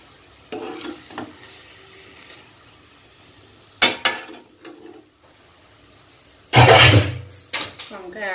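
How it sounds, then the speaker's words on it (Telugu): Fried brinjals for Telugu-style stuffed eggplant curry tipped into a pan and stirred, with scraping spoon strokes and bursts of sizzling, loudest near the end, amid quiet stretches and brief talk. "దీనిలో మనం ముందుగా వేయించి పెట్టుకున్న వంకాయలను యాడ్ చేసుకోవాలి"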